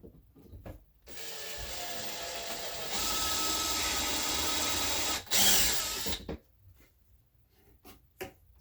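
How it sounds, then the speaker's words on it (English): A power drill whirs steadily as it bores a pilot hole down the center of a wood piece for a media shelf, a loud close motor drone of about five seconds that rises in pitch, then cuts off, leaving a few faint clicks. "Now that was a good pilot hole right there that went right down the center."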